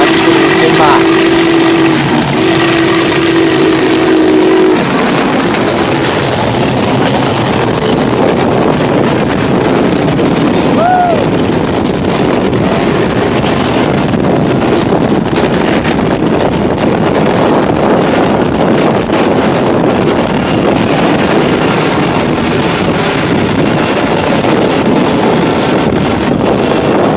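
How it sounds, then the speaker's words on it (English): Norfolk & Western 611 steam locomotive blasting past at 40 mph, a loud, sustained rushing roar with heavy wind buffeting, a brief whistle-like tone early on, and voices from a small crowd of onlookers mixed in. "the 611 blasts by at the maximum allowed 40 miles an hour"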